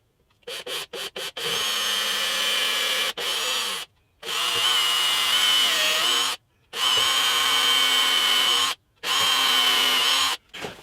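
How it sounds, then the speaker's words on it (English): A power drill bores a small pilot hole in wood clamped in place for guitar setup work, running in several steady whirring bursts of a few seconds each, with brief pauses and short starts between them, close and loud. "And I'll drill a small pilot hole."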